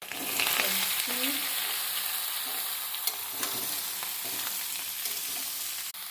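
Vegetables with green chilli frying in mustard oil in a pan, a steady close sizzle with occasional stirring clicks and a sharp knock near the end.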